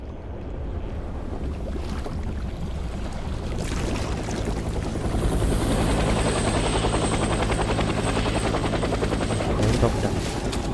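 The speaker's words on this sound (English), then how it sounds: "Helicopter." Helicopter in the Death Stranding video game, its rotor and engine roar building from a quieter start into a loud, steady thrum with a thin high whine, mixed with rushing wind and water-like noise.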